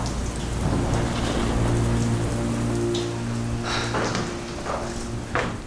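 Heavy rain pours down in a steady, dense hiss of drops hitting surfaces, constant and loud throughout, with no voices.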